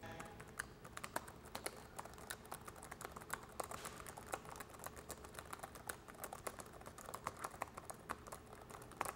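Rapid typing on a computer keyboard, a dense run of quick, sharp key clicks continuing steadily throughout at moderate loudness, close by, with no talking.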